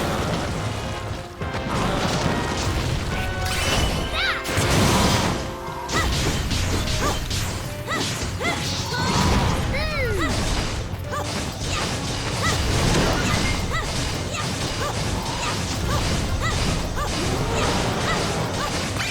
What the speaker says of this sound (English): Alright, shoot your cannon, boys.